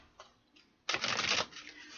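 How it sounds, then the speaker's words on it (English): A deck of playing cards shuffled once in a single dense riffle lasting about half a second, close and fairly loud, with two faint brief rustles before it and a softer tail after. "One more shuffle,"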